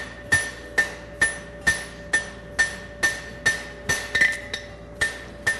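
Hammer blows forge-weld a Z bar horseshoe on an anvil, about a dozen loud, ringing strikes in a steady rhythm roughly two per second, close and with a metallic ring after each hit.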